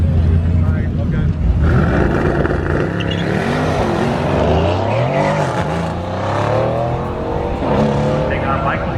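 A VW Beetle drag races a Mercedes C63S at a drag strip, with loud engines revving and rising in pitch close by and a commentator's voice over the noise.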